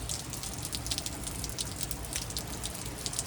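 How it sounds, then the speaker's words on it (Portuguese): Heavy rain pours steadily during days of stormy weather in southern Brazil, a dense, constant hiss with scattered drips and splashes throughout and no voices. "O tanto de chuva, gente."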